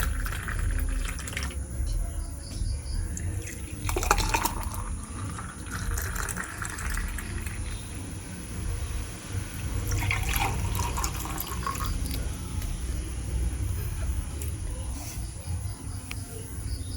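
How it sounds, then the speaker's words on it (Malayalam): Lemon water mixed with coconut milk is poured into a glass in a home kitchen, with a few short splashing pours at intervals over a faint, steady background hiss. "നമുക്ക് ഗ്ലാസ്സിലോട്ടൊന്ന് ഒഴിച്ചു കൊടുക്കാം."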